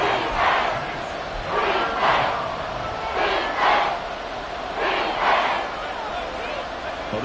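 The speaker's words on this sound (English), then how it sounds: "this crowd doing their best to make a lot of racket" Football stadium crowd in the fourth quarter of a close game roaring in repeated swelling waves, a dense wash of many voices rising and falling about every second and a half, filling the space loudly throughout.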